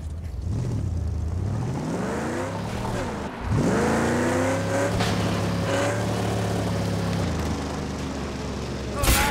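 A car in the post-apocalyptic game Mad Max drives and revs hard, its engine pitch climbing and falling through the gears, with a brief drop before a loud surge of acceleration.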